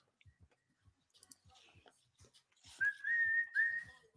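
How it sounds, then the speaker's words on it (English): A whistle is blown in a short, bright burst of about two notes near the end, following faint scattered clicks and soft background talk. "Blow the whistle."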